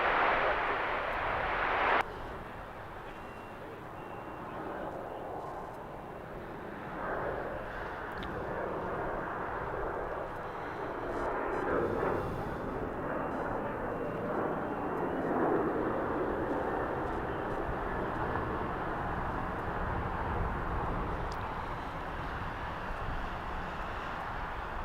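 A jet taking off from runway 25 right at LAX, heard as a sustained broadband engine roar that holds steady and fairly loud at a distance, following a brief louder burst at the start.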